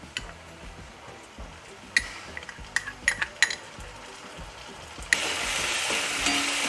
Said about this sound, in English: I'll add ginger garlic paste to it.